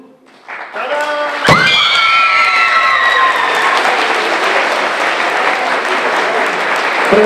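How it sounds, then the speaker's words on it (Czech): Loud, dense applause and cheering from a crowd at a stage music competition, a sustained roar that swells in after a short sung or voiced tone at the start and holds steady to the end. "A veľký potlesk potom."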